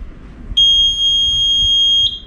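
A clean agent releasing panel sounds its second-stage alarm during functional testing: a loud, steady high-pitched electronic tone that starts abruptly and holds unbroken for about one and a half seconds, then gives way to a different tone at the end.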